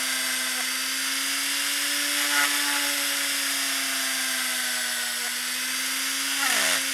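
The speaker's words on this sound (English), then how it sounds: "Just really take your time with this and let the drill do the work." An electric drill hollows out an eye socket in a polymer clay ball-jointed doll head, giving a steady close motor whine with a faint scraping texture and brief pitch dips under load.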